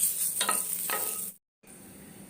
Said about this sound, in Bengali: মাখনটা গলে গেলে ওর মধ্যে আমি দিয়ে দিচ্ছি দারচিনি আর লবঙ্গ, আর দিলাম তেজপাতা।